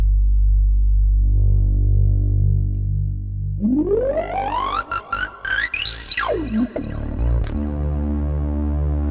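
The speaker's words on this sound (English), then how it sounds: "And there's some pretty badass distortion." A droning synth tone from the Prodyon SHORTNOISE 2 turns harsh and gritty under a lo-fi distortion effect, then sweeps upward in pitch with crackling, distorted stutters before settling back into a buzzy, lo-fi hum.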